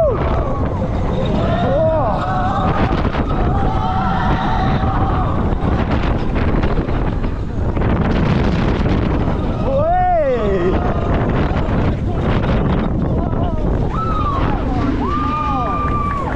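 Riders on the Voltron Nevera roller coaster at Europa Park shout and whoop over loud, continuous wind roar and rushing track noise, with excited voices rising and falling above the rumble.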